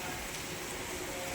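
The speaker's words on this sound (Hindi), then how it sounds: "इतनी ज़्यादा बारिश हो रही है ना" Heavy rain pours down during a storm, a dense, steady hiss of drops striking surfaces close by, continuous and unbroken.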